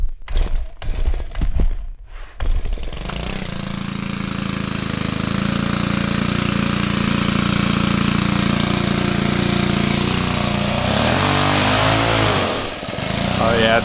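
A gas string trimmer (weedeater) with a throttle fault starts with a few sputtering pulls, then runs loud and steady close by, its engine note shifting as the throttle is worked near the end.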